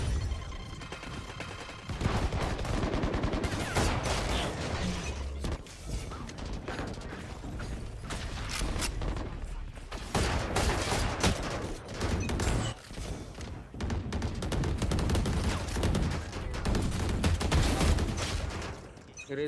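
Gunfire from a Valorant match, heard as loud, dense bursts of shots and mechanical clatter over game noise, with brief pauses.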